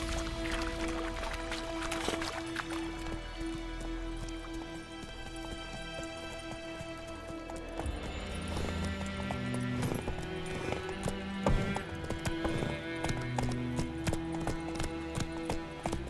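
In The Witcher 3, a horse gallops at speed, its steady clip-clopping hooves running throughout under a busy layer of game music and ambience, moderately loud and continuous.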